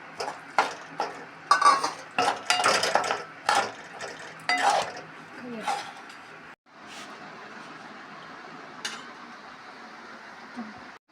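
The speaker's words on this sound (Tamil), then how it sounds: "பொடி பண்ண கடலையை இதில் போட்டு நல்லா மிக்ஸ் பண்ணலாம்" A spoon scrapes and clinks in a pan as powdered peanuts are stirred into a sticky peanut chikki mixture, in bursts of irregular close scraping followed by quieter, duller stirring.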